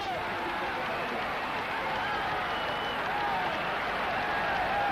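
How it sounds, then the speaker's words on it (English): Crowd at a 1993 Sri Lanka versus South Africa cricket Test match, a steady, dense wash of cheering and applause from a large gathering that holds for the full stretch, with some voices mixed in. "The crowd picked up and overflowing were jubilant."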